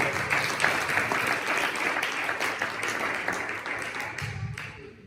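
A church congregation applauds loudly in sustained clapping throughout, a dense steady wash of hands that fades slightly toward the end.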